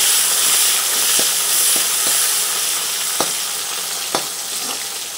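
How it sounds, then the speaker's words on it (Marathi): Fresh mung bean pods frying with tomato in a pan make a constant close sizzling hiss, broken by a few sharp spoon clicks and scrapes as they are stirred. "व्यवस्थित हलवून घेऊ।"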